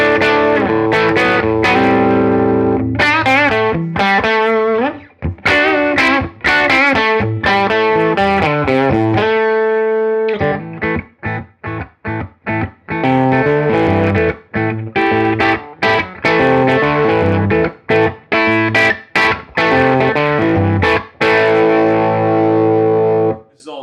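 A distorted electric guitar plays on the bridge pickup through a Rocknroll Amps Twanker 5E3 amp, loud twangy chords and single-note runs in bursts with brief gaps, gritty and sustained.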